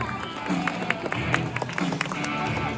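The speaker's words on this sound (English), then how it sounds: "Give a big round of applause, everyone." Audience applause at a science center show in Singapore: a scattered crowd claps in irregular, moderately loud bursts over steady background murmur, with some talk mixed in.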